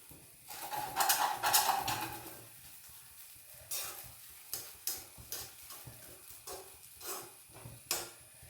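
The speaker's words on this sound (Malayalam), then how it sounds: "ഫോർക്ക് കൊണ്ട് വേണേൽ നമുക്ക് ഇളക്കാം." Light scraping and clinking of a fork stirring ragi semiya (millet vermicelli) upma in a pan, with soft sizzling and a few sharp taps at intervals, no voices.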